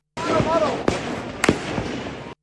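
Gunfire by police at protesters in Muzaffarabad: a few sharp cracks ring out, two standing out loudly amid a noisy, busy crowd background with distant shouting voices.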